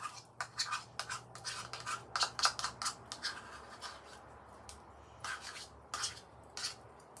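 A spoon scrapes sour cream out of a container in a kitchen, giving a string of short, soft scraping strokes that come in irregular bursts.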